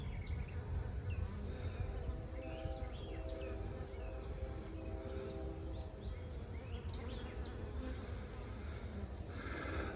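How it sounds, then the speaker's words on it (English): Honey bees crowd a frame pulled from a hive being set up, a dense close-up hum of many buzzing wings that holds steady throughout with overlapping pitches and faint birds in the background. "This older frame has a lot more bees on it"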